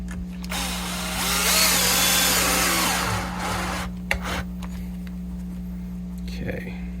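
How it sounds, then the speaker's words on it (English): Extra-long screws are driven into a guitar jack plate, with a power driver whirring for about two seconds before the sound drops to quieter handling noises and small clicks. "Put these extra long screws in here"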